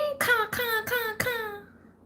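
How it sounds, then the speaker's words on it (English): A crow cawing four times in quick succession, harsh nasal calls close by and fairly loud, the last one trailing off into quiet. "Yeah, I just heard a crow."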